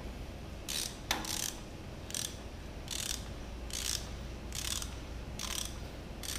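Ratchet clicks in short repeated bursts, about eight evenly spaced runs, close and fairly clear over a low steady hum, as a bolt is tightened during a Toyota 4AGE engine rebuild.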